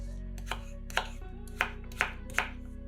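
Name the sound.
knife chopping potatoes into cubes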